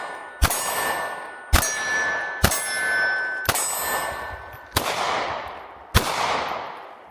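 Six sharp, loud pistol shots from a Smith & Wesson Bodyguard 2.0 Comp firing Sig hollow-point ammunition, spaced about a second apart, each with a ringing metallic tail and short echo.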